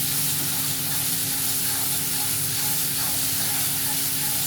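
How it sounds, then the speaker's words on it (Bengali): Tomatoes go into a pan where ginger and garlic are already frying, giving a steady, loud hiss and sizzle that holds evenly throughout with no talk. "আদা রসুনটা ভাজা হয়ে গেছে এবার এর মধ্যে আমি টমেটোটা দিয়ে দিচ্ছি"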